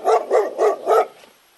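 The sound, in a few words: dog barking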